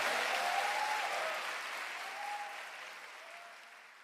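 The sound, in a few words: church congregation applause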